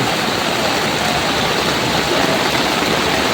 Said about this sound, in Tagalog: todong-todo yung ulan ngayon dito sa Lucena